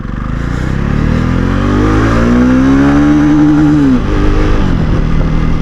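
A 2021 Jawa 42 BS6 motorcycle accelerates hard in first gear, its engine note climbing steadily in pitch, then dropping sharply as the throttle eases, loud and close with wind rush throughout.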